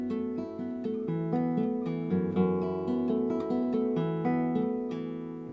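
Classical guitar playing a passage from Leo Brouwer's Etude 6, with fingerpicked chords using open first and second strings, ringing clearly and alone, close and evenly paced.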